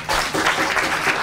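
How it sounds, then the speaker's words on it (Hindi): An audience on a kids' quiz show claps in a short, loud burst of steady applause for two children. "भैया, इन दोनों के लिए ताली बजाइए।"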